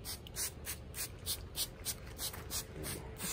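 A handheld spray bottle mists water onto indoor plants in quick, repeated hissing puffs, about a dozen sharp sprays in a steady rhythm, close and moderately loud.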